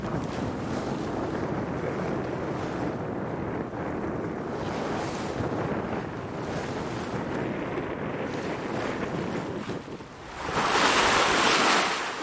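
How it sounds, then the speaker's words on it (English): A sailboat runs off the wind on the open ocean, with continuous loud rushing of waves and wind buffeting the microphone, swelling into a louder surge of spray near the end. "gorgeous day, now that the wind's picked up again"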